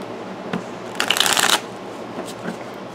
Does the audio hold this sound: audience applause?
no